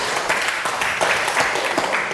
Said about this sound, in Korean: 우리 격려의 박수 한번 쳐드리겠습니다.